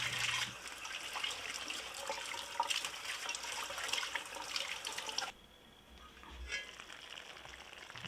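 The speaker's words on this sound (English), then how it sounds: "add about a cup of water or as required" Water running into a pot of curry chicken with eggplant and chickpeas, a steady close pour that stops abruptly midway, leaving a faint quieter room tone, no talk.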